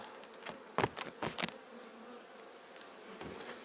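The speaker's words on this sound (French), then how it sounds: "Ça manque pas d'abeilles quoi" Honeybees at an open beehive during a pre-winter apiary check, a soft buzz under a few sharp knocks and handling noises, no speech.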